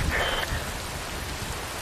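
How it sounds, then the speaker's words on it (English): Steady, dense rain hisses across the whole stretch in the video game Metal Gear Rising: Revengeance, a close wash of falling water with no voices. "Wind blows, rain falls."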